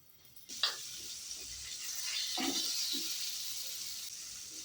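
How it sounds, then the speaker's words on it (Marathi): A spoonful of butter drops into a hot pan, starting with a sharp hiss that settles into a steady, moderately loud sizzle and gentle crackle up close. "पॅन गरम झालाच आहे त्याच्यामध्ये घालायचे एक चमचा बटर"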